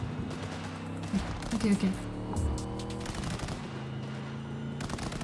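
Gunfire in the video game Cyberpunk 2077, a burst of rapid shots under steady game music and effects, with a brief spoken reply partway through.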